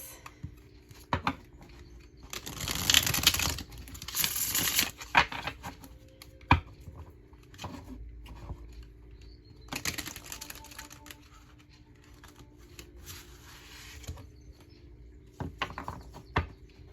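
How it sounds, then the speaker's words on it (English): Tarot cards being shuffled come in bursts of crisp riffling and soft shuffling, two louder runs with quieter taps and handling between, close and fairly faint, with no talk. "let's go ahead and get these shuffled."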